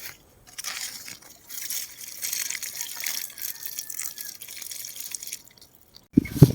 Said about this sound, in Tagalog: Tiligan na po natin yung ating markot ball ng lemon. Para may konting moisture po yung lupa.